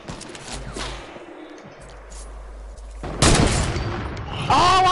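Sniper gunfire in an online shooter game, a few sharp shots with broadband bursts and game noise, one loud crack near the end, with faint voices in the background.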